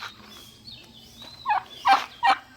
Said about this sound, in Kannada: ಇದನ್ನು ಬೆಂಕಿ ಕೋಳಿ ಅಂತಾರೆ.